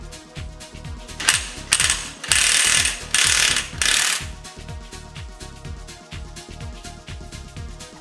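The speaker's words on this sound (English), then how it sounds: "loosen the primary gear nut." A nut puller loosens the primary gear nut on a Bajaj Pulsar NS200 engine with a rapid, steady train of close metallic ratchet clicks, interrupted by a few louder bursts of harsh hiss midway.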